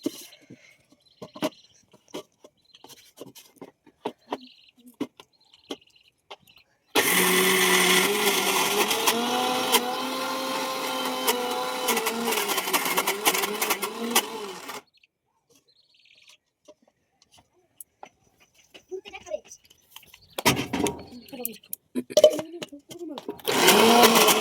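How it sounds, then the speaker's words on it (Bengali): A mixer grinder blending soaked lentils with water roars loud and steady for about eight seconds, then stops. Quiet clicks and handling noises come before and after it, along with some talk. "অল্প জল দিয়েছি, দিয়ে এবারে মিক্সিতে মিক্স করে নেবো।"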